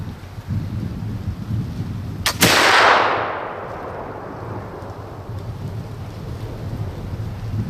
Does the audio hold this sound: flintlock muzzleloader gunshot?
yes